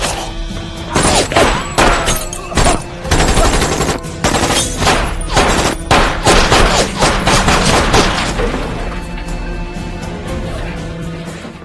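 Loud bursts of gunfire crack through a film shootout scene, rapid volleys and single shots with thuds and shattering, dense for several seconds before fading into a quieter tail.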